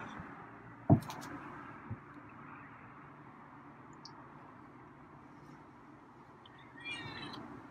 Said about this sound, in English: get a meow